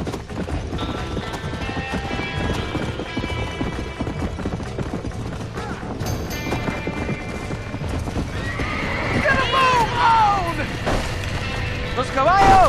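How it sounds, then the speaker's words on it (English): Panicked horses in a burning barn in Red Dead Redemption whinny shrilly and pound their hooves in clattering clip-clop, the neighs swelling louder toward the end over crackling background noise, with voices in the mix. "¡Los caballos!"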